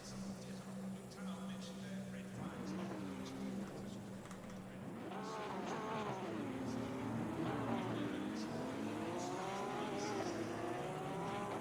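GT3 race cars idle and roll through a formation lap in Assetto Corsa Competizione, a steady layered engine drone with rising and falling revs as the field moves, continuous and moderately loud, with a voice talking over it.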